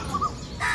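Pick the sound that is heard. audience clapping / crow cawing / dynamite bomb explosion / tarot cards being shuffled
crow cawing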